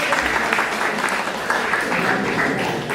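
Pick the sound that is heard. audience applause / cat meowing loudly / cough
audience applause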